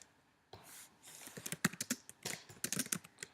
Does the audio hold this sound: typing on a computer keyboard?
yes